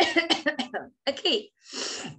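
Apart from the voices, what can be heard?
cough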